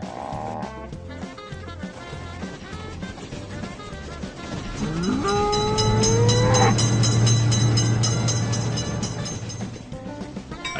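A train passing a crossing in the video game Railroad Crossing: rattling and clacking build to a loud rolling roar, with a sliding horn blast near the middle, then fading slightly.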